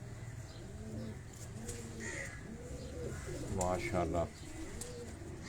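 Pigeons coo repeatedly on a rooftop in Karachi, a steady rolling murmur of several birds close by, while a voice briefly speaks over them near the end.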